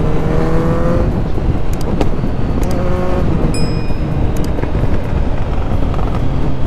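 A 2021 Kawasaki Z900 motorcycle fitted with a quickshifter revs hard through rapid gear changes, its loud engine rising in pitch between shifts, with sharp popping backfires close by.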